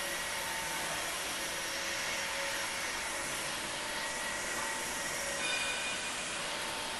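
An aluminum window sill roll forming machine, a Z-section steel window frame machine, runs with a continuous broad whirring hum at even volume throughout.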